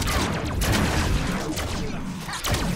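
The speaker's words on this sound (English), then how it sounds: "Laser gun go brrr." Rapid laser gun fire in a Deadpool video game, a dense continuous burst of shots lasting nearly three seconds, loud and unbroken with slight surges in intensity.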